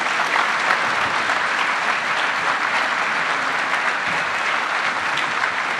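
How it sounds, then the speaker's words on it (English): A large audience at a 2009 Greater Houston Partnership economic outlook event gives a steady, loud round of applause that fills the room without a break as a speaker is welcomed onto the stage. "Let's show Jeff what a Houston welcome looks like with a warm round of applause"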